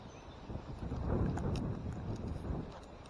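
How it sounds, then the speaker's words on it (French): Wind blowing outdoors, gusting as a rough, rumbling buffet across the microphone that swells in the middle and eases toward the end, fairly loud with no speech. "je parle un peu fort parce qu'il y a du vent, alors c'est compliqué"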